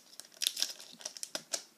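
A Pokémon card booster pack is torn open by hand without scissors, giving a quick run of close, crisp crinkles and rips that come in short bursts.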